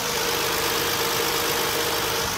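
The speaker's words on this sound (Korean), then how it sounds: "그럼 바로 엔진 사운드 담아드리도록 하겠습니다." A Hyundai Grandeur HG sedan engine idles steadily up close with the hood open, a smooth, even rumble with a constant hiss and no voices.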